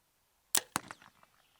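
An arrow fitted with a turkey hunting broadhead, a G5 or Beast model, is shot and strikes a target board. A sharp release snaps, then a loud impact thwack follows with short rattling decay, all close and alone.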